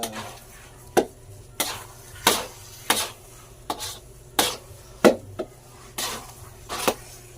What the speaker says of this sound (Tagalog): Halo-halo mga kaidol, halo-halo.